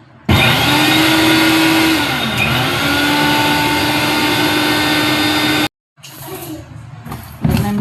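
A kitchen mixer grinder runs loud and steady as a continuous whirring drone, cuts out briefly, then restarts more roughly for a few seconds.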